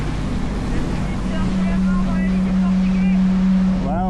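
A sailboat surfs down waves with a constant rushing hiss and a steady engine-like hum, waves washing along the hull.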